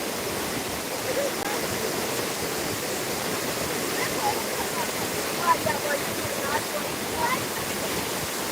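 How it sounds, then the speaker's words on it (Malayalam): A waterfall roars steadily, its dense rushing water filling the whole stretch at an even, fairly loud level. "വെള്ളച്ചാട്ടം കണ്ടോ ഗായ് നമ്മളിപ്പോൾ വെള്ളച്ചാട്ടത്തിലല്ലേ"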